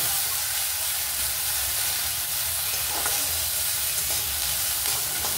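Lightly fried vegetables stirred in a pan for an oats dish, a steady broadband sizzle with soft scraping of the spoon running throughout, close and fairly loud, no voices.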